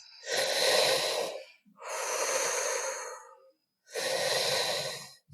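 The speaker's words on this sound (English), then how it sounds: "The breath is into the belly through the mouth," Three deep, forceful breaths through the mouth, each a long rushing inhale or exhale, close and alone, separated by brief pauses.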